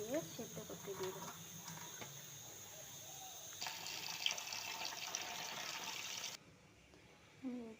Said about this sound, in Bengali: মটরটাকে একটু ভালো করে আমি ধুয়ে নেবো